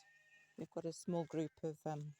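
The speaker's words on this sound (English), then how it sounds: "you can probably hear the sheep in the background" Hungry fattening lambs bleating on a farm, a run of loud, wavering bleats close by while someone speaks over them.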